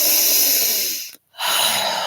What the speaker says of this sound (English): So breathe into the heart.